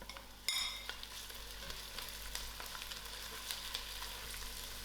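Curry leaves with ginger and garlic drop into hot oil for a lamb curry, bursting into a loud crackling sizzle that settles into a steady, busy frying hiss with scattered pops.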